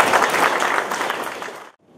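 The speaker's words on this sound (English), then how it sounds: "May I request all of you to have a big round of applause and welcome our today's panelists." Audience applause welcoming panelists at a panel discussion on media and good governance, a dense wash of clapping that holds steady, then fades and cuts off near the end.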